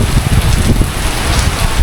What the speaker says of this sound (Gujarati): કન્ટિન્યુઅસ વરસાદ પડે છે